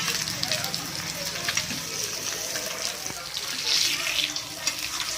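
Fish frying in a pan over a high flame, a steady bright sizzle and crackle that holds throughout, loud and close, with no talking.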